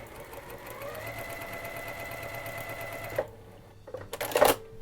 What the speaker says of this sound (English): And now I'm going to sew the rows together.